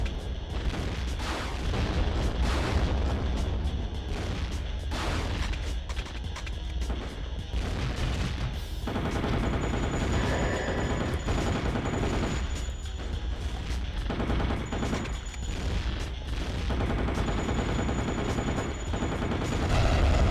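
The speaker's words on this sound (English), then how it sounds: "Oh, I've got a grenade launcher." A grenade launcher fires in the vampire shooter game Underworld: The Eternal War. Repeated heavy booming shots and blasts come in dense bursts for about twenty seconds, loud and continuous, over a thin sustained tone.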